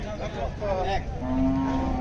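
A cow at a busy cattle market in Hazratpur, Bangladesh, lets out a long, low moo in the second half, rising over the steady murmur of the crowd and nearby voices.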